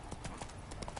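Roach, Geralt's horse in the video game The Witcher 3, gallops in a quick, steady run of hoofbeats, faint and even across the moment with no clear voices.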